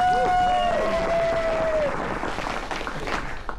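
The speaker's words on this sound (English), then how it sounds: "Please give a big round of applause to Sam," An audience on a cruise ship at a Mardi Gras carnival applauds and cheers, a dense wash of clapping that swells then fades, while a sustained whistle-like tone rings through the first two seconds.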